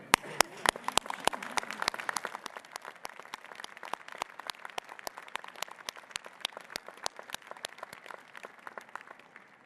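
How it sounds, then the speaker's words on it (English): A crowd at a spring university convocation applauds the graduates' families and friends, with many separate hand claps, some sharp and close by, merging into steady applause throughout. "show them a round of applause for their support"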